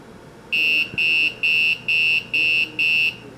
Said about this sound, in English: We got it setting off a god-awful sounding alarm